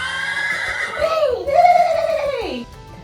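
A horse neighs loudly in a long, wavering whinny that rises and then falls away, heard close over faint background noise.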